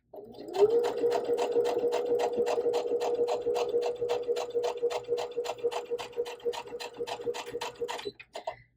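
A sewing machine stitches quilt pieces a scant quarter inch from a drawn line, running in one steady burst of rapid, even needle clicks with a motor hum, close and clear, then stopping near the end.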